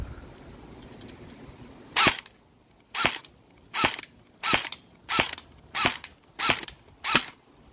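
An airsoft gun fires at a new airsoft mask about 10 feet away: eight sharp, loud cracks at a steady pace, roughly every 0.7 seconds, following a quiet start with no talking.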